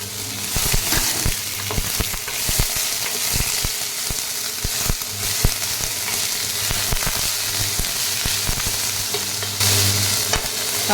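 Green chillies sautéing lightly in a pan with mustard seeds, a steady broadband sizzle with frequent scraping stir strokes and small pops throughout, fairly close and without talk.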